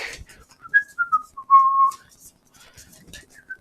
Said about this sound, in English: Okay, so whistling while we work.